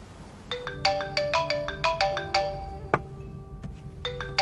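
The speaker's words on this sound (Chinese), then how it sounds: "这不是马景奎的电话吗？" A mobile phone ringtone plays a bright, repeating electronic melody of chiming notes at moderate volume, with no talk over it.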